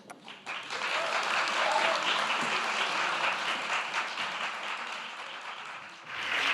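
An audience at the WOW women's festival stage in Istanbul applauds after a talk, a sustained wash of many hands clapping that swells after a brief start, holds steady, then dips and rises again at the end.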